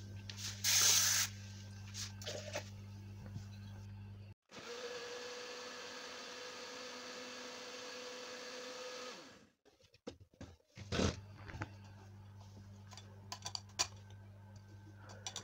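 A blender whirs steadily for about five seconds while blending apple and orange juice with water, with clatter and brief kitchen noises before and after.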